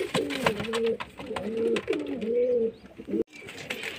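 Pigeons coo in a loft in repeated rolling phrases, close and fairly loud. A few brief chirps and a short gap break up the cooing near the end.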